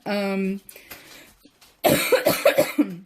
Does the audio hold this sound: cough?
yes